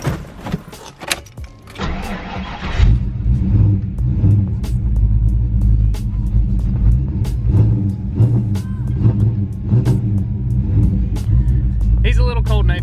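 A Ford Mustang SN95 engine runs in the cold, settling into a loud, steady low rumble at a rough idle after a brief whirring start, with a voice heard briefly at the end.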